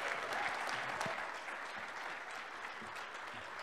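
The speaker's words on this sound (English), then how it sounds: "Round of applause for our panelists here today." A conference audience applauds its panelists, a sustained, even wash of clapping from a large crowd, fairly distant and soft, with no voices rising above it.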